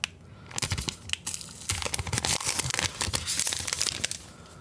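Close crinkling and tearing of plastic and paper packaging as a Saramonic wireless microphone system is unwrapped, a dense run of sharp rustles, crackles and rips.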